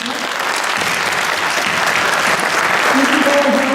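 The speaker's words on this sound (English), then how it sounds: "So let's just give them all a round of applause." An auditorium audience at a forum applauds steadily, a dense sustained wash of clapping that holds loud throughout, with a voice speaking faintly underneath toward the end.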